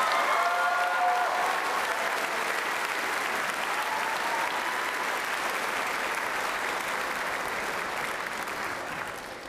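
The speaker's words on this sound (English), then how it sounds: "Let's give one more round of applause to the class of 2027." Sustained applause from a school audience at an eighth grade celebration, a dense, steady wash of many hands clapping for almost ten seconds that thins slightly near the end.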